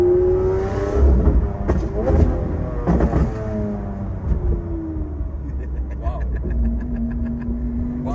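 A car with a straight-through exhaust and no valve revs in loud, rising and falling blasts, with people talking and exclaiming over it nearby.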